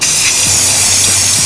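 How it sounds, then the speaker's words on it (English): A loud, steady aerosol hiss from a spray can painting sunglasses sprays continuously at close range, with faint bumps underneath. "you just have to spray the bottom"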